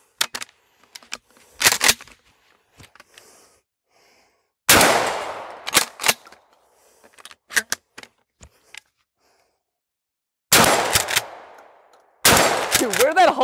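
A Mossberg 500 pump shotgun fired repeatedly outdoors during a high-round-count stress test: loud sharp blasts spaced a few seconds apart, with mechanical clacks of the action cycling and handling noises between shots.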